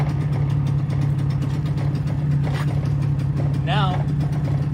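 Portable generator engine running at a steady close idle, a constant low hum throughout, with a person talking over it.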